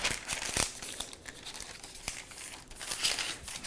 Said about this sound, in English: So I'll begin by just folding one edge here, and then placing my bread pan on top, and then just creasing it on the opposite side